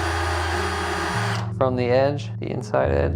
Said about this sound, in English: So I just have this nice little brushless drill.